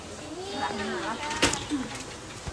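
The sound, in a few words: pigeon cooing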